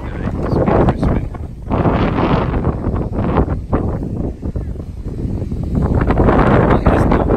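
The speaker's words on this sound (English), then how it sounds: "It's very windy." Strong wind on a Snowdon mountain ridge buffets the microphone in loud, rough gusts that rise and fall throughout, roaring steadily with no clear pauses.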